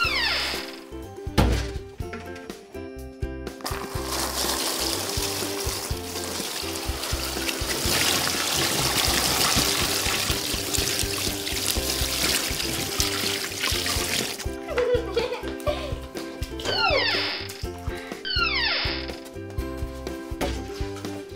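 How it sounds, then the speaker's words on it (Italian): Water trickles and pours into a toy foot basin during play, a steady splashing stream in the middle, framed by clunks and plastic handling sounds before and after. "Adesso ci verso l'acqua."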